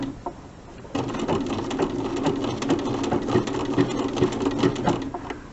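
After a brief pause, a sewing machine starts up and runs steadily, machine appliqué stitching, its needle chattering in a fast, even rhythm close by.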